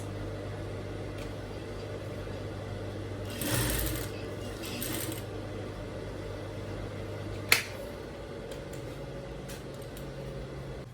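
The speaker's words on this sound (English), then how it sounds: "So I'm going to stitch it horizontally, exactly where the banding stopped." A sewing machine stitches horizontally across a shirt sleeve, a steady low mechanical hum running throughout with a couple of brief louder bursts and a sharp click partway through, close and fairly quiet.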